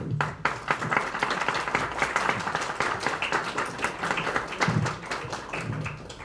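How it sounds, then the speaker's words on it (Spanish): An audience applauds at a Mexico City electoral-institution event about youth voting, a steady dense patter of claps that fills the room, with a few louder bursts of noise mixed in. "Un aplauso muy fuerte."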